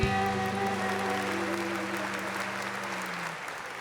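A church worship congregation claps steadily and loudly for several seconds, the dense applause blending with sustained musical tones from instruments or singing underneath.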